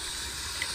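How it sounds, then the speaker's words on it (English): A steady, loud hiss of steam as an espresso machine's steam wand is purged after milk steaming, an even burst lasting under a second with no talk over it. "Always purge your wand after steaming."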